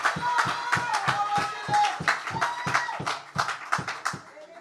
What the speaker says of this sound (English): give a big round of applause for the valedictorian